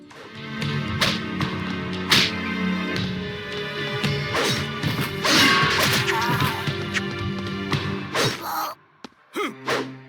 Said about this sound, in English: They seriously, unironically used the metal pipe falling sound effect for critical hits